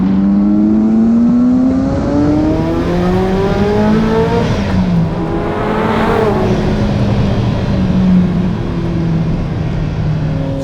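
A Ferrari F40 supercar's engine revs loudly and close while driving, its pitch sweeping up through the gears with a continuous throaty roar and brief shifts between climbs.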